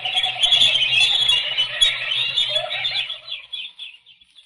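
Birds call at a mine shaft site, a dense overlapping chorus of chirps and squeals, fairly loud and continuous before thinning out and fading near the end.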